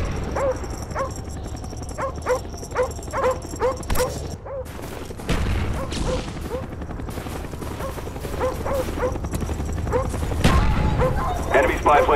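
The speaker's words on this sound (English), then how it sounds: "Friendly dogs inbound." Attack dogs in Call of Duty: Black Ops multiplayer bark repeatedly in quick, yipping bursts amid a busy, noisy backdrop of rumbling and clatter, with voices speaking over parts of it.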